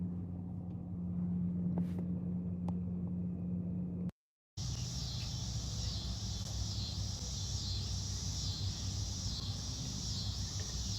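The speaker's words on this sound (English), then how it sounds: "That engine sound right now just started at the exact moment that I started the live stream." A vehicle engine droning outdoors, a steady low rumble that gives way after a brief dropout to a louder, busier drone with a high whine and a pulsing hum, no voices present.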